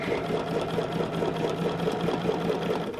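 A sewing machine stitches continuously at steady speed while quilting small circles on a quilt with a ruler foot, a close, even mechanical whirring with a fine rapid pulse throughout.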